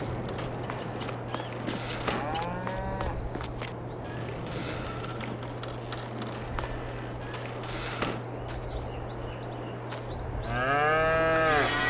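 Cattle in the farm game Farming Simulator 22 moo several times, some near and some farther off, against a constant barnyard hum with hoof steps. A loud, close moo comes near the end.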